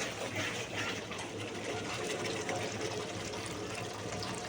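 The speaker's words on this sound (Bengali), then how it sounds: "এবার আমি জলটা ঢালবো" Water poured steadily into a pan of Bengali katla kalia, the fish curry's spiced base fried with sour yogurt, giving a continuous close splashing pour for several seconds with no talk.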